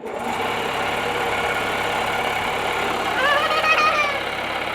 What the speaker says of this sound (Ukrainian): Запускаємо компресора.